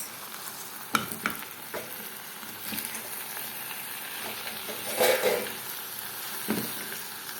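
Okra and meat are stirred in a pot, with soft sizzling and scraping under a few sharper clinks of the spoon against the pot, including a louder scrape near the end.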